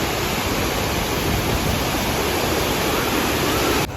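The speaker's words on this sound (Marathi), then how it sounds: "नदी तुम्हाला दाखवतो त्याच्यामध्ये" River water flowing in a steady, dense broadband rush, loud and continuous throughout like a nearby waterfall or rapids, with no voices.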